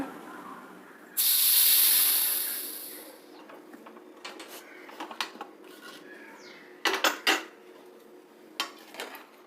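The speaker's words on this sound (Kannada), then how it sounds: "ಈಗ ಕುಕ್ಕರ್ ಲೆಡ್ನ ಕ್ಲೋಸ್ ಮಾಡಿ ಒಂದು ಮೂರು ವಿಸಲ್ ಬರೋಷ್ಟು ಕುಕ್ಸೋಣ" A pressure cooker with its lid closed, cooking avarekalu beans, lets out a loud burst of hissing steam for about two seconds, then fades to quiet clinks and taps of kitchen utensils.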